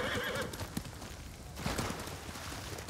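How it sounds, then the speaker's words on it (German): In the Ghost of Tsushima video game, a horse whinnies loudly near the start while hooves clip-clop in a quick galloping rhythm throughout, with a few heavier thuds along the way. "mit dem Pferd geht es ja schnell"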